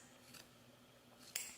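Fabric scissors trim excess material from a sewn skirt seam, giving a faint soft snip or two followed by a sharper, brighter cut near the end, alone in a quiet room.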